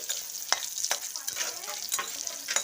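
Bori lentil dumplings fry in hot oil in a kadai over a gas flame, with a little salt and turmeric. A bright, continuous sizzle is broken by several sharp scraping stirs, loud and close.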